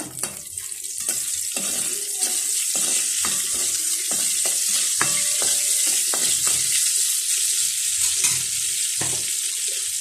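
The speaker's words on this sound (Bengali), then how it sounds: "প্রথমে আমি এটার মধ্যে কাঁচামরিচ শুকনো মরিচ দিয়ে দেব চার পাঁচটা" Green and dried chillies fry in hot oil as the tempering for a goat brain curry, a loud, continuous sizzle broken by a few clattering stirs.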